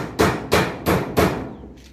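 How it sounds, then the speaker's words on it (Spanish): Hammering at a small house under construction, four loud close blows about a third of a second apart with a fainter fifth knock, heard alone. "Lo que más cuesta de taladrear es el principio"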